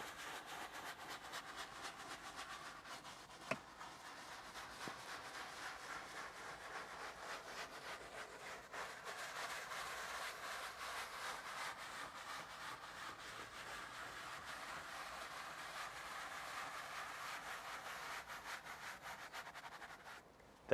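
A brush scrubs a leather car seat and headrest in a continuous, faint, close scratchy rubbing with fine rapid strokes, steady throughout with one small knock early on.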